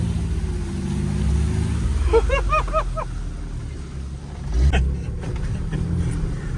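A Jeep Liberty churns off-road through a mud hole, its engine a steady low rumble that swells and eases, with splashing and a brief knocking thump near the end, recorded close from inside the vehicle.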